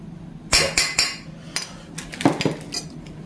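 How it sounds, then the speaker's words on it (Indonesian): A utensil clinks and scrapes against a bowl in quick irregular strokes, close and fairly loud, as a beaten egg mixture with salt and pepper is stirred by hand. "Lalu langsung diaduk ya teman-teman, biar rata."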